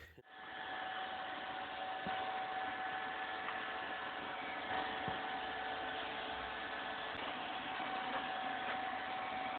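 A 1969 Subaru Sambar with a Polaris two-stroke engine and a fabricated exhaust runs at a steady idle, giving a constant buzzing drone with a faint whine. It starts after a brief quiet moment and continues unchanged.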